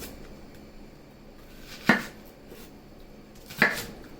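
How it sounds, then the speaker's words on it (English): A knife chopping an onion on a cutting board gives two distinct, sharp wooden knocks about two seconds apart, close and clear against a quiet kitchen background. "We're gonna cut one onion."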